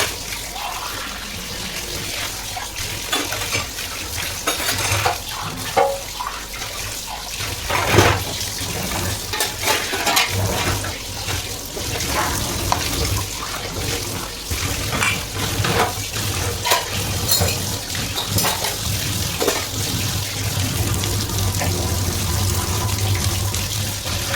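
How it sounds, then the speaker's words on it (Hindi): Dishwashing at a home kitchen sink during a rainy morning, with tap water running steadily throughout and scattered clinks and clatters of utensils and dishes being rinsed, fairly close and continuous with no talk. "जो बर्तन थे मैंने फिर उनको वॉश किया।"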